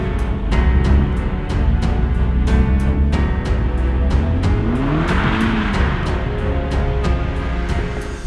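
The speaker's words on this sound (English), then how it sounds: "to be able to drive on a frozen lake" A 300-horsepower VW Golf R on snow tires drives across a frozen lake, its engine roaring steadily and loud, rising and falling in pitch as revs change, with faint ticking over the drone and no talk.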